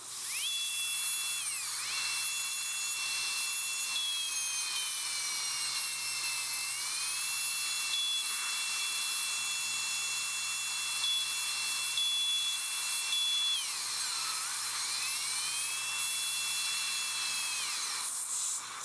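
Dental drill fitted with a 3 mm super coarse diamond bur doing lingual reduction on a tooth, a continuous high-pitched whine that dips and rises in pitch as the bur loads and moves side to side.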